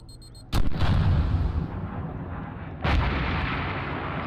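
In the Arma 3 military game, a missile strike produces two heavy booming explosions, one near the start and another a couple of seconds later, each trailing into a long rumbling decay.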